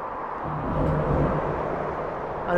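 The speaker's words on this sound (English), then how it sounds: "the noise you can hear are trucks going over the expansion joints" Trucks crossing the expansion joints of the Orwell Bridge make a continuous heavy roar, heard from the footway, that swells to a peak midway and then eases, with a sharper thump at the very end.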